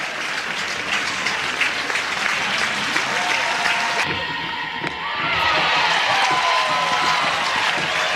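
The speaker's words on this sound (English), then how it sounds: "Grind will get one heck of an ovation." A crowd at a college softball game between UCLA and Oregon gives a loud, sustained ovation, with continuous clapping and cheering filling the whole stretch and a few sharper claps standing out.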